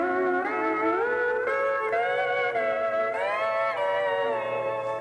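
Pedal steel guitar played without palm muting, sustained chords gliding and bending into one another with bright, squealy ringing overtones, heard alone and continuous.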